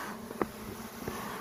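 Honeybees buzz faintly around an open hive that is being smoked on a windy day, a soft steady hum with a couple of brief louder passes of bees flying near.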